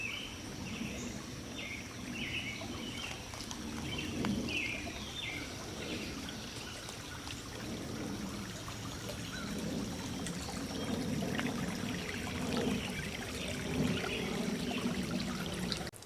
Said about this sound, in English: I love the sound of rushing water by the creek